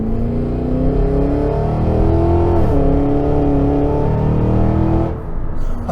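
A 2023 Cadillac Escalade V's exhaust drones loud and close under acceleration, a deep steady engine note with a brief dip midway and a slight drop near the end, with no talking.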